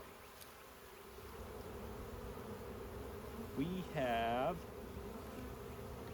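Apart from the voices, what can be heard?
honey bees buzzing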